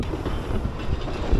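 A train passes somewhere in Wales, a steady low rumble with a faint rattle that holds evenly through the brief moment.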